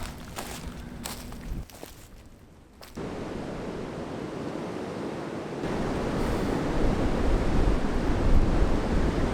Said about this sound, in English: Wind picked up a bit.